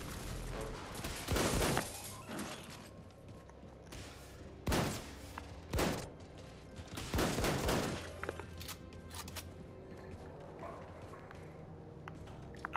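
Shotgun blasts and gunfire in the video game Wolfenstein II: The New Colossus, several loud, sharp bursts spaced irregularly over a rumbling, busy game soundscape, with quieter clatter between shots.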